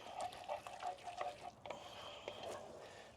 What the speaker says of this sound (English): we're gonna give that a good stirring